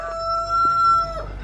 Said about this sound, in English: Look at that big old rooster.